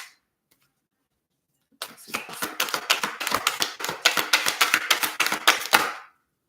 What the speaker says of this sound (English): let me shuffle this real quick